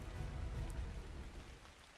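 Steady rain falling in the video game Ark Ascended on the Ragnarok map, a continuous broadband hiss of drops with a low rumbling undertone, fairly faint and with no voices.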